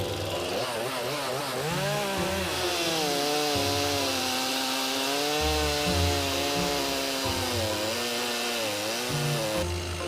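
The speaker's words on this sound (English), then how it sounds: "But with the sound of chainsaws humming away, Nova is still worried about the end result." A chainsaw cuts down a tree on the grounds of a country house, its close, loud engine whine rising and falling in pitch as the blade bites and eases through the wood.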